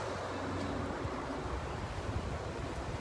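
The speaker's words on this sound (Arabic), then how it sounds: "ده اسمه شاطئ الجزيره." Waves at Gezira beach on the Bab El Bahr corniche: a continuous, fairly soft wash of surf with wind noise, steady throughout without distinct breaks or voices.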